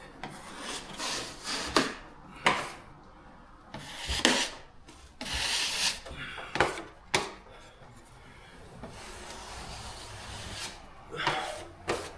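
A taping knife drags across joint compound on a drywall ceiling, scraping and flattening it with repeated close, rasping strokes. Some are short and sharp and others are longer smears, with brief pauses between.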